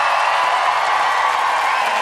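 Studio audience at a radio debate show applauding and cheering for debater Brittany, a steady, dense wash of crowd noise filling the whole moment at even loudness.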